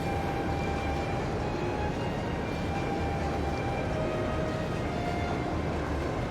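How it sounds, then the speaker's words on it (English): The high-speed train Crusader from Trails of Cold Steel II rolls along with a steady, dense rumble and faint high whine, a constant drone of game travel ambience with no speech. "The high-speed train, the Crusader."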